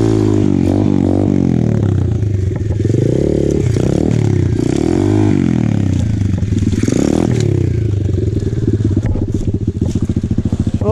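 An Apollo RFZ pit bike on an enduro trail engine roars loudly and steadily, with clattering, scraping bursts as the bike goes down, the engine still running throughout.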